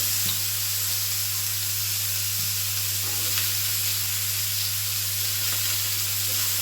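Cut brinjal pieces sizzle in hot oil in a pan for a brinjal curry, a steady dense frying hiss with a low constant hum beneath and occasional soft stirring clicks, no voices.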